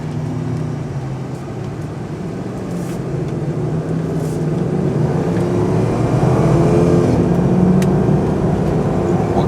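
A 1999 Jeep Grand Cherokee Limited 4x4 drives along, its engine and road noise a steady, close rumble that grows louder and fuller as it picks up speed.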